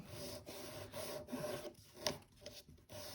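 A nail file rasps back and forth across a fingernail during a gel nail repair. The scraping strokes are steady and continuous, close by and soft, with no voices.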